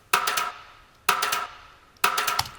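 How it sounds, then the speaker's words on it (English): Three rimshot hits, roughly one second apart, each a sharp bright crack followed by a short light digital reverb tail from a 2C Audio Breeze, heard alone and fairly loud. "And the reverb itself is this 2C Audio Breeze, just like a simple light digital reverb."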